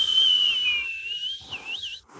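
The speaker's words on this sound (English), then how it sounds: "I have to whistle through my gap." Whistling through a gap in the teeth, a clear high sustained tone that slides downward, then wavers through a few short bends before breaking off.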